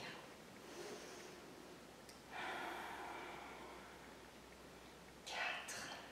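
Slow breaths drawn in and let out during a gentle chair-supported strength and coordination exercise class, two soft airy swells separated by quiet, close and faint.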